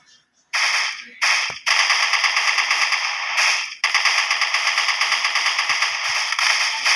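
Rapid automatic gunfire in a video game, loud and close, with a few short bursts followed by long sustained rattling volleys.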